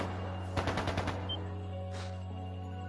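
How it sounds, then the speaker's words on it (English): A quick burst of gunfire in the video game Trails of Cold Steel II, several rapid shots in about half a second over a steady game hum with background music, followed by a softer whoosh. "That sounded like gunfire"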